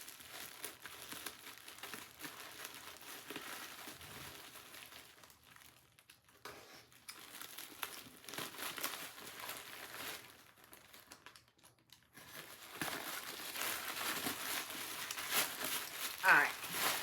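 Plastic packaging on a package crinkles and rustles close up as it is carefully unwrapped, in bursts with brief quiet pauses and louder crackling toward the end.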